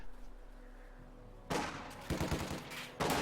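MG42 machine guns fire in a World War II strategy video game, with rapid bursts of gunfire that start abruptly and come in clusters, loud and close, with no talking.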